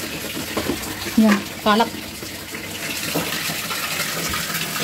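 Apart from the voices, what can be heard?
water filling a small pool for a child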